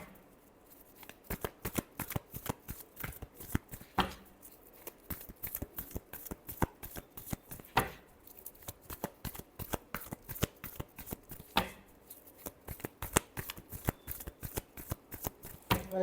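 Tarot cards are shuffled close up in a long run of rapid, crisp riffles and flicks, with brief pauses between bursts.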